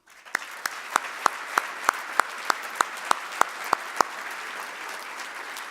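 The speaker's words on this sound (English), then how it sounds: "Please join me in a round of applause." Audience at an annual business luncheon for the construction and real estate industry applauds. Crisp, evenly spaced loud claps stand out over a softer crowd wash, then fade into quieter background clapping.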